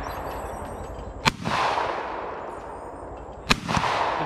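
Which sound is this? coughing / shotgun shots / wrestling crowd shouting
shotgun shots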